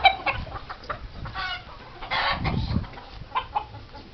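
A brooding hen sitting on a clutch of about fourteen eggs gives soft, irregular clucks and low grumbles, close by, with brief pauses between calls and no talking.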